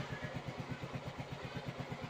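Yamaha Mio Soul GT 125 scooter engine running just after being started, a steady close putter with even rhythmic pulses and no talk over it.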